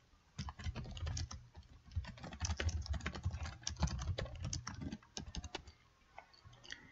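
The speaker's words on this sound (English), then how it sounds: "I'm going to type in the question that we had" Someone types a question on a computer keyboard: rapid, uneven runs of close key clicks and taps with brief pauses, trailing into quieter strokes near the end, no speech.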